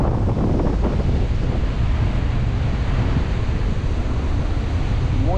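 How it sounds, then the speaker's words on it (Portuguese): Ocean waves roll onto a deserted beach in Paraíba, Brazil, near a river mouth and mangrove, a steady loud rush of surf mixed with heavy wind buffeting the microphone, with no voices. "Lindo, lindo mar. Uma praia totalmente deserta,"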